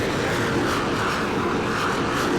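An airplane in the Roblox flight game PTFS at St Barts passes with a steady, loud, broadband engine roar that fills the whole moment without pause, with no talking over it.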